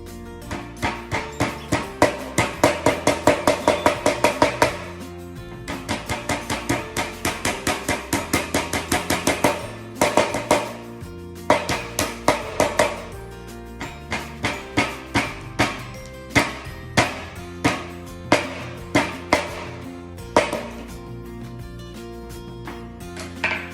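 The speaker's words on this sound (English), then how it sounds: "I'm going to beat this ginger." Ginger being beaten with a kitchen tool before going into Jamaican oxtail: a long series of sharp, close, regular knocks, in steady bursts with short pauses, loud and alone without talk.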